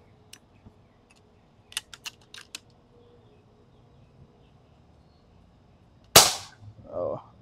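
Air rifle shots at metal targets come as a few sharp, snappy cracks spaced irregularly across quiet outdoor air. They finish with a louder close report, followed by a brief voice.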